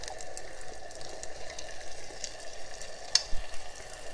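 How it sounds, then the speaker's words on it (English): Green masala hitting browned onions in a pan for a green prawn curry, a steady close sizzle and frying hiss with a few soft stirring scrapes and one sharp clink, no voices. "You can see the onions have browned. Now I am adding the green masala to this."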